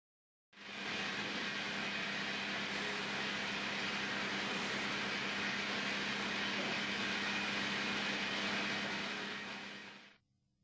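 A sawmill saw driven by a 150 horsepower bottom motor and a 100 horsepower top motor, at the Yarloop mill, gives a steady, loud, broad roar that starts abruptly, holds for about ten seconds and then cuts off.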